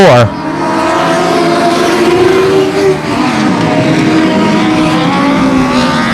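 Race cars at 281 Speedway power out of turns three and four, engines roaring loudly with rising and falling pitch as they pass close by, continuous under an announcer's running commentary.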